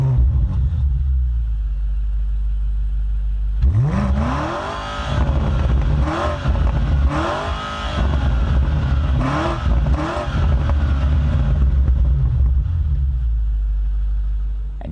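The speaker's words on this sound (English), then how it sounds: "BMW says they've tuned the exhaust for this new powertrain and for this new M5 to sound really aggressive" A 2025 BMW M5 with an electrified bi-turbo V8 fires up after a quiet idle hum, then its aggressively tuned exhaust barks through several sharp revs before settling into a loud, steady rumble close by.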